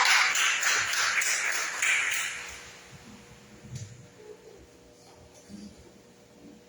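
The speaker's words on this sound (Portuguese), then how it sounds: "Nós recebemos com palmas agradecendo ao nosso Pai." A church congregation applauds, a burst of brisk rhythmic clapping that fades after a couple of seconds into a quieter room with scattered small shuffles and taps.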